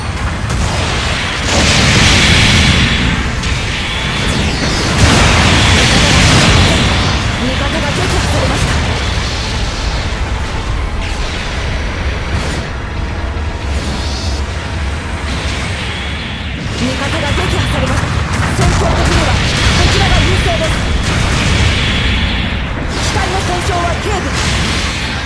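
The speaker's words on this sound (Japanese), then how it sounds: "砲撃が来ます" Artillery shells from a bombardment keep exploding in a Gundam mobile suit match in a ruined city, with heavy booms and rumbling blasts over steady battle noise and a voice talking in between.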